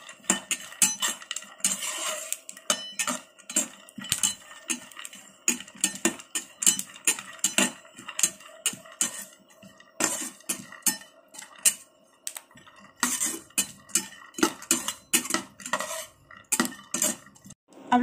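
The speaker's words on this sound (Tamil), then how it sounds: "3 நட்ஸையும் இதில் லேசாக நான் வந்து இந்த நட்ஸை வறுத்து எடுத்துக்க போகிறேன்" Cashews and pistachios roast dry in a pan, heard as brisk irregular rattling and clicking of nuts and a utensil against the metal, close and busy with brief pauses, no talk.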